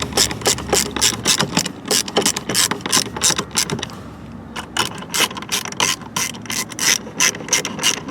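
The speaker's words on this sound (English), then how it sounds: "Using a 7mm socket, we're going to tighten this up." A ratchet turns a 7mm socket to tighten a bolt while fitting a part to a 2019-2023 Mercedes-Benz AMG E 53, giving rapid, loud, close clicking pawl strokes in steady back-and-forth runs with a short pause midway.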